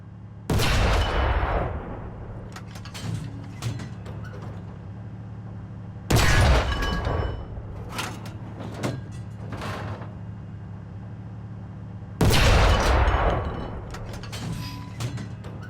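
Three heavy tank cannon shots boom at regular intervals in an arcade battle video game, each a sharp loud blast trailing into rumbling decay over steady engine hum.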